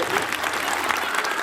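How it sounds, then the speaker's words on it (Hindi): An audience at a school Republic Day programme applauds a performance by young girls, producing a short, loud, dense burst of clapping that holds steady throughout with no voices rising above it. "जोरदार तालियां बजनी चाहिए"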